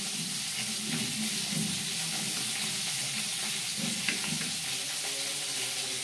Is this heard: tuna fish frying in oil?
yes